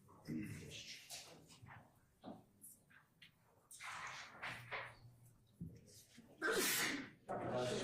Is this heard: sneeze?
yes